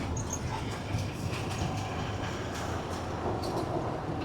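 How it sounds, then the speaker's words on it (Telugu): A large railway train rumbles past with a continuous heavy roar and faint clickety-clack from the wagons, steady and loud for the whole stretch, with no talk. "పెద్ద రైలు ఇంజన్ పెట్టాడు"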